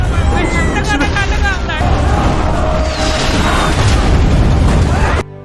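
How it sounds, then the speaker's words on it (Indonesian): Loud, dense booming cannon blasts and crashing bursts fill the scene continuously, with shouting voices and chaotic noise mixed in, then cut off abruptly. "para prajurit yang di luar pun melihat kembang api itu dan langsung menembakkan rumah itu dengan meriam"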